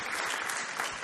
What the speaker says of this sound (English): That's a nice round of applause.